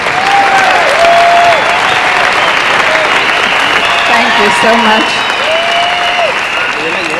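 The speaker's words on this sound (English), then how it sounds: "That clapping couldn't be just for me." An audience claps loudly and steadily at a 1996 Herbalife event, with a voice speaking briefly over the applause and a whistle-like tone drifting through it.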